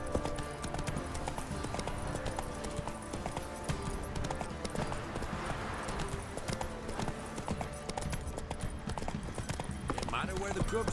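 Roach the horse gallops in The Witcher 3, with rapid, rhythmic hoofbeat clip-clops running continuously while characters talk over them.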